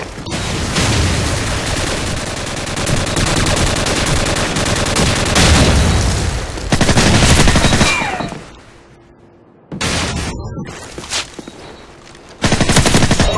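Sustained automatic gunfire in a team deathmatch shooter match on the Crossfire map, with loud rapid bursts running almost continuously and a few brief gaps near the end.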